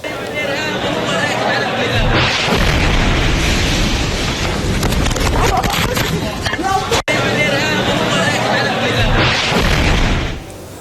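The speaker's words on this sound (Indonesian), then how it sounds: "ledakan tiba-tiba terjadi di sebuah rumah di kawasan kamp pengungsi Al-Nusairat, Gaza, akibat serangan udara militer Israel" Israeli airstrike on a house in the Al-Nusairat refugee camp in Gaza: heavy booming blasts and rumbling roar mixed with crowd noise and shouting, loud and sustained across the clip, with a brief dropout midway.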